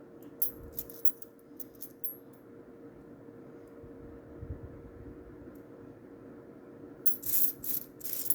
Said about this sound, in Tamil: அப்படியே புது காயின் இப்போ தான் பிரித்து கொட்டியிருக்கிறேன்